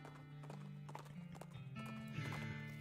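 Horse hooves clip-clop steadily in the West of Loathing video game, a regular rhythmic trot with a whinny, heard over game music and faint background sound.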